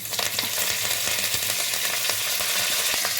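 Dried red chilies frying in hot oil as a tempering for a carrot fry: a steady, dense sizzle and crackle close by, with no voices.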